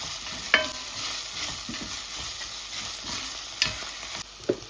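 Ginger garlic paste and tomato fry in a pan for prawn curry under a soft, constant sizzle, with a few distinct spoon strokes and scrapes from stirring.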